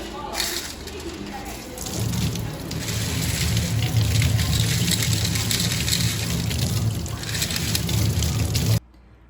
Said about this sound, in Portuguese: Lavar a amostra sobre a peneira de malha 475 em água corrente.